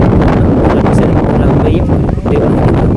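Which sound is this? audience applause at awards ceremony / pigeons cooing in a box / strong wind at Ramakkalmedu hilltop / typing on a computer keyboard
strong wind at Ramakkalmedu hilltop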